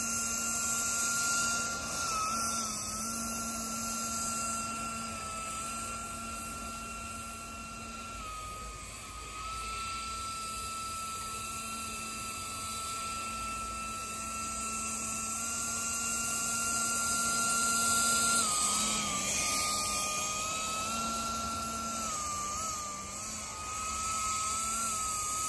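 A Palaform X500 budget hovercraft kit runs at steady throttle, its fan and motor giving a continuous loud whirring drone with a sustained pitch that dips briefly and then climbs, with no talking over it.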